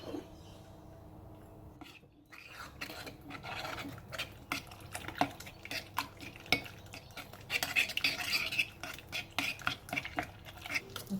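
A cracked egg is stirred and mixed into warm fat head dough for low carb rolls, giving repeated close scraping and clinking of a spoon against a bowl, steady and uneven with brief pauses.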